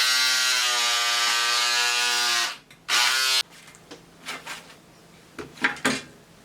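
Fabric is cut out for the back neckline of a short yoke dress. A steady buzzing hum runs for a few seconds, then stops, and a handful of scattered, crisp cutting snips follow in near silence.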